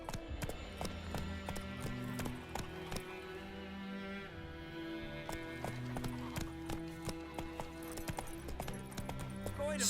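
The Witcher 3 horse Roach galloping: steady rhythmic hoofbeats thudding close and continuous over a low droning game score, with a faint voice at moments.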